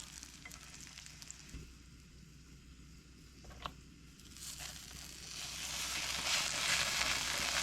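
Rice patties cook in a pan, opening with quiet scraping and a few soft knocks before a hissing sizzle swells up and grows steadily louder and closer toward the end.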